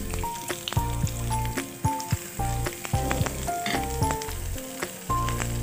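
Onions frying in a spoonful of oil in a pan for homemade pizza, a close, steady sizzle broken by repeated scraping and clattering as they are stirred, with no talking.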